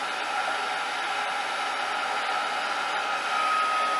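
Hair dryer blowing on paper towel sunflowers: a steady, loud, close whooshing hiss with no pauses, the airflow constant throughout.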